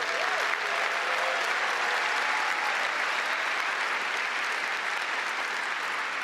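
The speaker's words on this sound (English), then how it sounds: "Let's give them a big round of applause." Steady, dense audience applause fills a large keynote hall at Adobe MAX 2025, loud and continuous for the whole stretch with a faint crowd murmur beneath.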